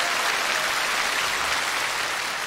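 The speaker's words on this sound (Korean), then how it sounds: "수고의 박수를 크게 주시기 바랍니다" An audience at a televised Korean national singing contest anniversary special gives the performers steady, full applause, a uniform wash of clapping throughout with no talking.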